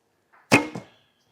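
A single arrow shot from a Minghe Calling Crane Assyrian bow by Gaga Archery, 35-pound draw: a faint draw sound, then a sharp, loud snap of release and a quick second thud fading within half a second.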